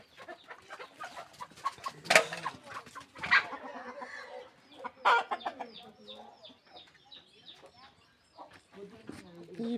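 Chickens cluck and squawk in short, irregular bursts with a few louder calls, close by, with voices speaking over them.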